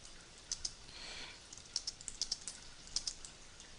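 Typing on a computer keyboard, close, crisp keystrokes in small irregular clusters of two or three, moderately loud over a quiet hiss, with no one talking.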